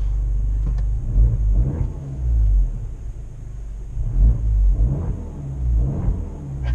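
An Abarth 595 Competizione idles with a deep, throaty exhaust rumble, swelling in several short revs over a low, steady drone, close by.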